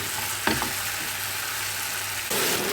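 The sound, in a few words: sautéing ground onion in pan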